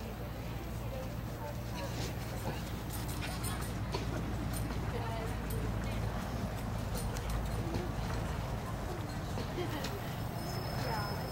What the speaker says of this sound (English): We turn to a sitting trot now.